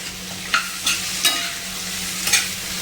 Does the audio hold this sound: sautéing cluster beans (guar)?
yes